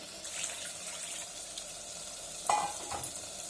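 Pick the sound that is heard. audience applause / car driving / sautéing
sautéing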